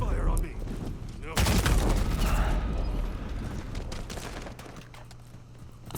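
Gunfire in a Call of Duty Modern Warfare multiplayer match: dense bursts of shots break out partway through and continue as a loud, sustained fusillade over background game sound.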